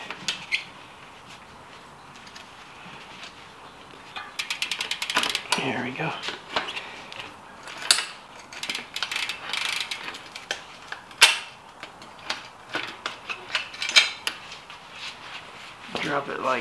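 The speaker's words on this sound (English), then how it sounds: "now we can move our wheel all the way to the front and remove our chain from the sprocket" Metallic clicks and ratcheting rattles come from a dirt jumper bike as its rear wheel is shifted forward and the chain lifted off the sprocket, in irregular bursts over a quiet background.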